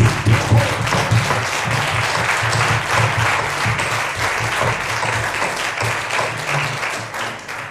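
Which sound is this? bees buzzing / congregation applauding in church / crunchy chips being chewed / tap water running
congregation applauding in church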